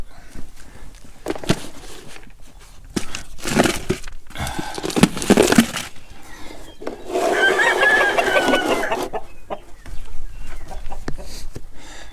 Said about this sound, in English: My wonderful chickens.